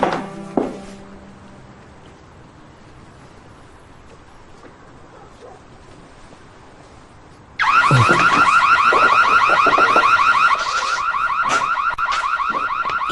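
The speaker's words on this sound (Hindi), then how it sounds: "अलार्म क्यों बज रहा है?" A car-style alarm suddenly starts blaring partway through, a loud, continuous warbling siren that keeps going to the end after a quiet stretch.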